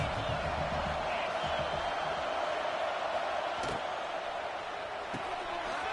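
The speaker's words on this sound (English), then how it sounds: "This crowd trying to make life miserable for this offense." Steady stadium crowd roar from a College Football 26 game between Indiana Hoosiers and Oregon Ducks, a dense continuous wash of noise at even loudness with faint thuds mixed in.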